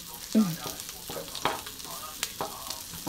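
Garlic frying in a browned pan, a steady close sizzle with scattered spatula taps and scrapes, and a faint voice in the background.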